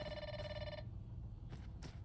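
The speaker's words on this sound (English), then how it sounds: "let's answer this so it's not just ringing at us" A telephone rings in the video game Grounded 2, a bright electronic trill that sounds for about a second, then two shorter bursts follow after a pause, heard alone without talk.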